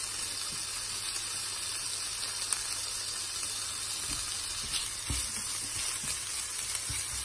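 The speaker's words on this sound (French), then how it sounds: "Mes oignons sont prêts, sont bien frits. Je vais rajouter le poivron." Onions and bell pepper fry in a pan with a continuous soft sizzle and hiss. Faint stirring knocks and clicks come through now and then.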